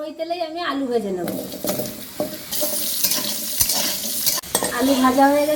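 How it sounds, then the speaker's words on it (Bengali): Potatoes fry in oil while being stirred, with sizzling and scraping under a speaking voice at the start and end. "এবার ওই তেলেই আমি আলু ভেজে নেব।"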